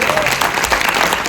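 Loud, close applause from the audience at a press event for Hindustani 2, a dense burst of clapping filling the whole moment, with a few voices mixed in.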